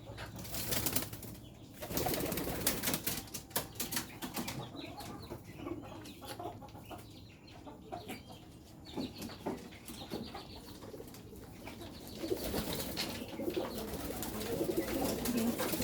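Teddy and Dhakaiya giribaz pigeons coo softly and repeatedly at close range, with a few brief bursts of wing flapping.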